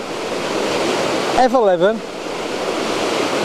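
A waterfall rushes in a steady, loud, broadband roar, with someone briefly speaking over it in the middle.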